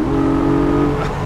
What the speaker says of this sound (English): Can you hear this glorious sound of the flat 6 4-liter engine?